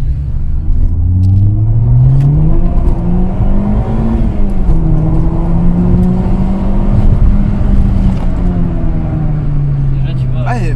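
A Peugeot 206 RC engine revs while driving, its droning note climbing and dropping through the gears with a steady road rumble underneath and a voice talking over it.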